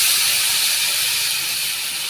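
Spice mix hits a hot pan of okra, giving a loud, dense and continuous sizzling hiss close by.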